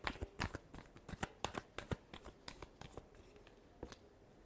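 Tarot cards shuffled by hand in a quiet room, a quick run of crisp riffles and flicks at close range, soft and alone.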